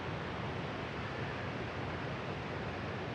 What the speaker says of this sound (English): We are in a beautiful forest with an active waterfall behind us that you might be able to hear on the recording.